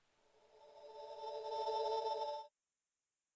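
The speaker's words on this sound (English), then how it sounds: "which is a resampled time stretch version of the Discord notification sound" A resampled, time-stretched Discord notification chime, slowed into a sustained glassy tone with stacked harmonics that swells for about two and a half seconds, cuts off abruptly, and is followed by a brief click after a moment of silence.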